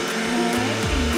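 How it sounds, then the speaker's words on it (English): A household vacuum cleaner runs steadily in a bedroom, a continuous motor whine with slight pitch shifts, close and fairly loud, with no talking over it. "maybe we should shut the vacuum off"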